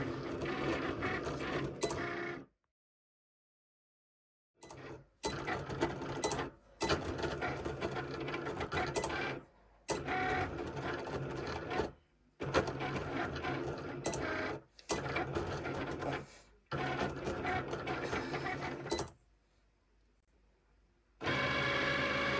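A Cricut machine at work on yellow lettering, giving off soft mechanical whirring and clicking carriage movements in repeated bursts separated by short silent pauses, heard close and fairly quiet.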